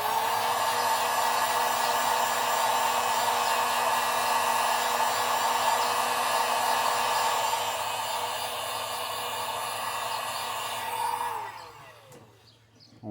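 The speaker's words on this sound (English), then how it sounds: "So we're gonna heat set this." A heat gun blows on fresh paint on a thin crankbait lure, a steady loud hiss with a constant hum that runs for about eleven seconds, then winds down and stops.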